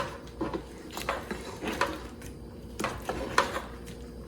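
Corn on the cob being stirred in a creamy coconut gravy in a pot, soft intermittent clinks and scrapes of a spoon against the pot with wet squishing between, fairly quiet and close, no talking.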